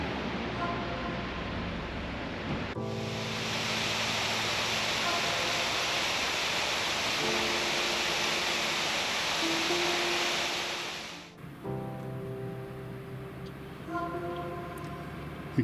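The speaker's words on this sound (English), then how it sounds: "It was just this little creek and waterfall." A small creek and waterfall in a valley give a steady, broad rushing roar that swells in close for several seconds, then drops back to a softer, more distant flow.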